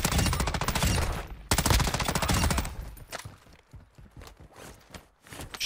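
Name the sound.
shotgun fire in a video game (Call of Duty DMZ)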